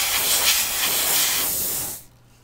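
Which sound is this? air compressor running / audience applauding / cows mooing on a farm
air compressor running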